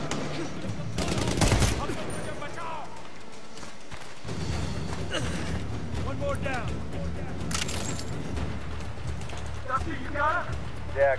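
Gunfire bursts in the Medal of Honor Warfighter game, with a loud cluster of shots early on and scattered further shots amid a busy battle mix, under game dialogue.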